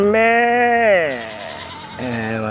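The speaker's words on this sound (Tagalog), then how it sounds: "Mga kambing oh." A goat penned in an enclosure lets out one long, loud, wavering bleat close by, then a second bleat begins after a short pause.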